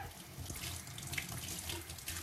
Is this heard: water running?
yes